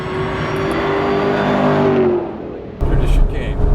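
Race cars rush past a Ferrari on a race track, engines whining loud and close with a steady roar that fades before a burst of wind and rumble near the end.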